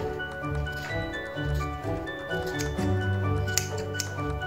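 Scissors snip through a doubled strip of fabric for trousers in a series of close, soft crunching cuts.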